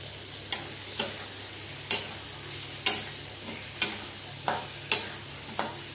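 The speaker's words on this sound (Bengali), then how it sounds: "এবার আলুটা দিয়ে ভালো করে এই মশলার সঙ্গে কষে নেব।" Potatoes being stir-fried with spices in a hot pan: a steady low sizzle under regular scraping strokes of a spatula, roughly one every second, close and moderately loud, with no talking.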